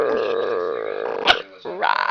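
A dog named Angel vocalizes up close in a short, drawn-out whining, growly yelp that rises and falls, followed by a sharp brief bark-like burst and another whine, loud and alone without talk.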